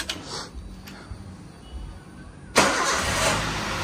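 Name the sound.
Toyota Avanza engine starting in the morning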